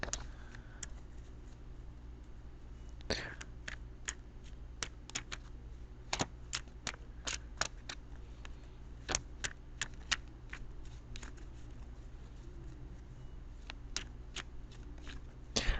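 Tarot cards are shuffled in quick irregular flicks and taps, crisp close-up snaps scattered over a quiet background.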